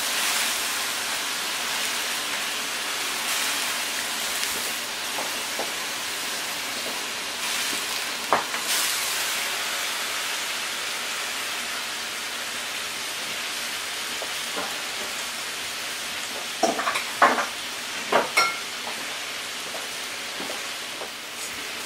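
Veal saltimbocca deglazes in a hot pan, giving a steady broad sizzle and frying hiss throughout, with a few brief clinks and scrapes of stirring and no speech.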